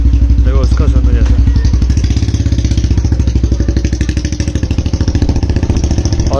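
A Royal Enfield Bullet 350 motorcycle engine runs loud and close, its single-cylinder thump beating in a fast, even rhythm, with someone speaking over it at the start.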